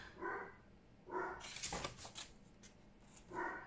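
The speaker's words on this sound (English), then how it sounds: "Just going to pretend I can't hear the dog." A dog barks indoors in a few short bursts, moderately close but not loud, with rustling and handling noises between the barks.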